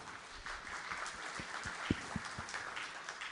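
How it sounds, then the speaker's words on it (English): Audience applause at a talk session for speakers sharing experiences from the logging world, a steady broadband patter of many hands holding at moderate level throughout, with a few louder individual claps standing out. "ladies and gentlemen, a big round of applause for them"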